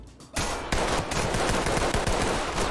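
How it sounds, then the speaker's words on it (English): Rapid gunfire from the tactical shooter Ready Or Not, a dense volley of close, loud shots that cuts in after a brief quiet start and keeps firing steadily to the end. "Bro, I'm shooting."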